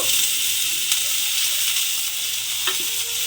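Small pieces of pointed gourd frying in hot oil, a loud, dense, continuous sizzle close by with faint stirring underneath.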